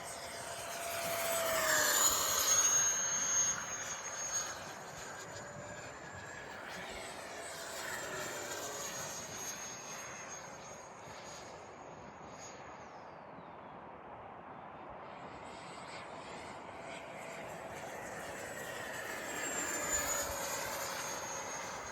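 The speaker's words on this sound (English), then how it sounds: "Nice flying jet." FMS 70mm T45 Goshawk electric ducted fan model jet flying overhead, a steady high whine and rushing hiss that swells, fades and swells again as it makes passes at varying distance.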